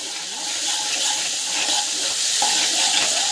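Onions fry in hot oil with mustard seeds, cumin, fenugreek and garlic, producing a loud, steady, close-up sizzle, a dense bright hiss that holds evenly throughout with no talk over it.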